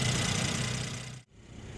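A 2017 Mercedes-Benz SLC43 AMG with a 3.0 L twin-turbo V6 runs at a steady, loud hum, cuts out sharply for an instant, then resumes slightly quieter.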